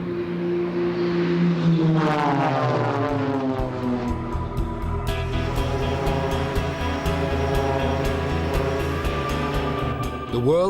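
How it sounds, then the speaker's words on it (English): Propeller aerobatic planes of the Blades display team roar overhead, engine pitch sweeping down as they pass close, then a steady loud drone with rising buzz as another aircraft approaches. "The world-famous Blades aerobatic display team."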